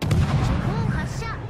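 Naval main guns booming in World of Warships: Legends aboard the destroyer Yudachi, a dense, sustained roar of heavy cannon fire with rumbling low end throughout, player voices faintly in the mix.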